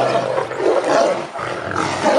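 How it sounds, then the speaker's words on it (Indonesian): A loud, sustained tiger roar from a toy animal fills the clip, rumbling and swelling in two long waves without a break. "di sini ada satu ekor harimau loh"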